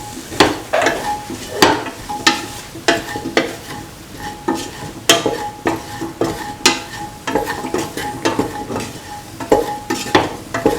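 Potatoes, ginger, shallots and garam masala stirred in a frying pan, with repeated scraping strokes of a utensil against the pan over a low sizzle, close and rhythmic.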